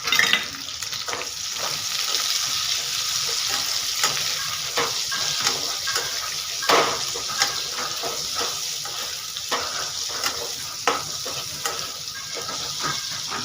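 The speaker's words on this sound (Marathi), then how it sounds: "तर इथे बघा कांदा चांगला फ्राय होऊ लागला आहे ह्या तेलामध्ये." Onion, garlic, ginger and green chillies frying in hot oil, a continuous close sizzle and crackle with scattered stirring clicks throughout.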